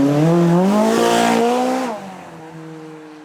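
A McLaren with a 3.8 litre engine launches at a supercar event and accelerates hard, its loud rising engine note climbing through revs before easing off and fading as it pulls away.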